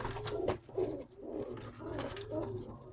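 Soft, repeated coos of Iraqi pigeons in a low rolling rhythm, several calls close together over a steady background murmur.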